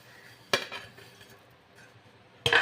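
A spoon stirs moringa leaves with softened tamarind in a pan, giving two sharp metallic clanks against the pan separated by a quiet stretch with a faint scrape between them.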